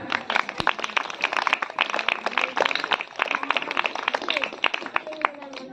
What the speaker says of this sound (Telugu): పిల్లల్ని ఉత్సాహపరిచే విధంగా చప్పట్లు కొడదాము